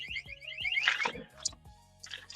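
Deep freezer open-door alarm beeping in a home, a repeated electronic chirping pattern, fairly faint and mixed with clattering household noise and rustling.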